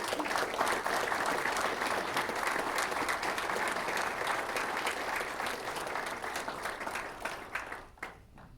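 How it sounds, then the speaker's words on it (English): Applause from a room full of people at a Kansas baseball coach's introductory press conference, a dense sustained wash of clapping that holds steady and then tapers off near the end. "Let's give a round of applause for head coach Dan Fitzgerald"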